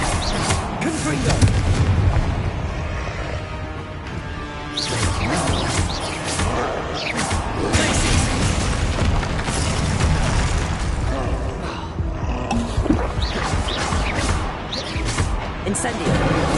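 Confringo spell blasts in Hogwarts Legacy, booming explosions and bursts amid dense combat noise, with a voice talking over the action.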